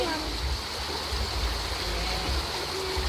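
Water streams and splashes steadily over a motorcycle trike being washed outdoors, a continuous spraying hiss with people talking faintly underneath.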